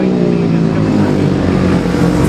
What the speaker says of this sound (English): 7 bikes in very quick succession now.